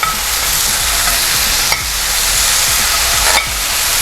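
Squirrel meat browns in canola oil in a pan, giving a steady, dense sizzle and crackle throughout, with a couple of brief louder spits along the way.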